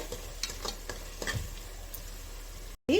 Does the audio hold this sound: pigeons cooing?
no